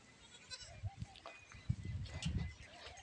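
Goats let out to graze bleat several times in short calls at close range, against a quiet outdoor background with some light movement noise.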